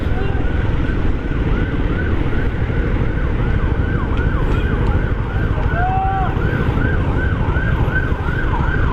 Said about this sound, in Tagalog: Dalian nyo, may ambulansya sa likod.